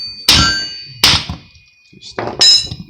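A hammer strikes the pitman arm on a Ford Econoline E350 steering box, four loud close metallic thunks in an uneven rhythm with brief ringing after each blow.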